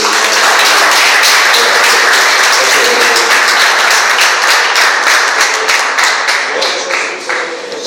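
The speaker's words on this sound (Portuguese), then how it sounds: "Uma salva de palmas para esse Deus." Church congregation giving a round of applause to God during a service, loud dense hand clapping that swells early and gradually thins and fades toward the end.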